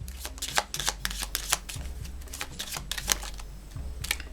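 Tarot cards are shuffled by hand in a quick, close, steady riffle of crisp flicks and taps, with no talking.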